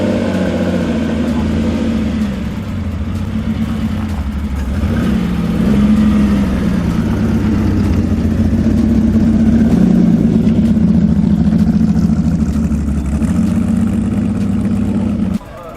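A Ferrari sports car at an outdoor classic car concours starts and settles into a steady, loud idle, its engine note a continuous rumble heard close by throughout.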